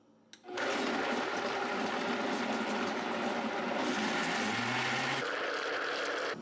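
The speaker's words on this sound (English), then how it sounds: "now we're going to blend this up. And this is mainly just for the raspberries" A blender purees raspberries into chia pudding, starting abruptly and running loud and steady at close range, its motor pitch dipping briefly before shifting near the end.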